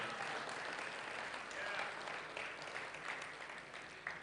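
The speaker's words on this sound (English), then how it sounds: "Can I get a round of applause for everybody?" A launch-event audience gives a round of applause, a continuous wash of clapping that sounds fairly distant and faint throughout.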